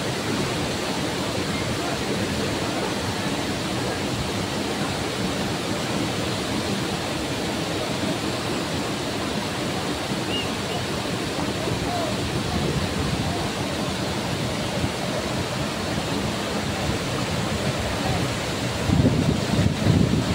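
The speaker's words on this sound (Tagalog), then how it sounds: "malakas din po ang agos ng tubig" A continuous roar of rushing water at Tinuy-an Falls, broad and steady like a powerful torrent, mixed with strong wind noise throughout.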